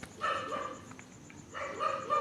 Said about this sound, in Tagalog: Ang ingay ng aso, nakikisama, nakikisabay din